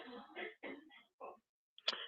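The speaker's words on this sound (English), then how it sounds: "Oh dear, he's really coughing today, isn't he?" A man coughs in a few short, harsh bursts separated by pauses, followed by a sharper, louder burst near the end, close to the microphone.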